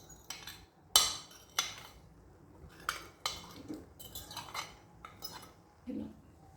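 Spoon stirring dry fruits into sweet zarda rice in a pot, sharp metallic clinks and scrapes against the pot rim spaced irregularly, close and fairly faint, with no talk.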